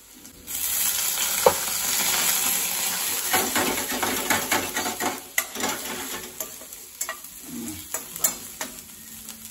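Chicken majestic fries in a pan with a loud, steady sizzle, joined by repeated scraping and clinking of a spatula against the metal as it is stirred.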